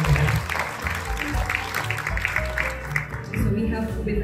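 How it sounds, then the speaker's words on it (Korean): An audience applauds to welcome a guest at a public procurement export consultation event. Moderate, steady clapping continues with voices mixed in. "청장님 큰 박수로 환영해주십시오."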